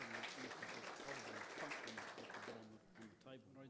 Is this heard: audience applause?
yes